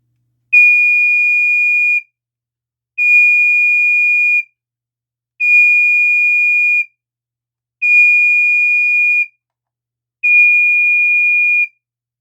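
A Pyrotector Smoke Sentinel photoelectric smoke detector sounding its piezo alarm: five loud, pure, high-pitched beeps of about one and a half seconds each, evenly spaced, with silence between them.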